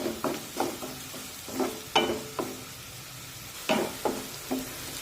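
Onion sautéing in a pan to a light brown, with repeated spoon strokes stirring it and a soft sizzle underneath, heard up close without talk.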